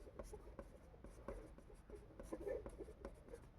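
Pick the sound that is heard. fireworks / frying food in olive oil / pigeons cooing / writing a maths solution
writing a maths solution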